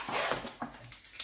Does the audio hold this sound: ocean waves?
no